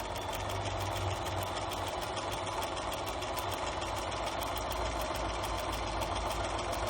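A sewing machine stitches fabric at a slow, steady pace, giving a continuous mechanical whir with a fine rapid ticking throughout, close and unbroken.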